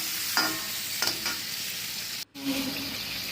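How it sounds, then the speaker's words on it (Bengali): Shrimp fry in hot oil with a pinch of turmeric, giving a steady close sizzle with a few brief scraping stirs and a short break in the sound partway through. "এবারে আমি চিংড়ি মাছগুলো ভেজে নিচ্ছি"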